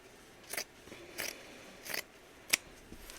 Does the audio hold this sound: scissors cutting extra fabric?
yes